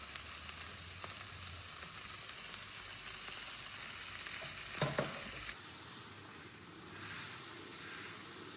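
Beef for a Wellington sears in butter in a hot pan, a loud continuous sizzling hiss with spits and crackles, easing slightly partway through before carrying on steadily.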